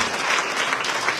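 A church congregation bursts into applause for the Lord during a sermon, a short, dense burst of many hands clapping, fairly steady and moderately loud throughout.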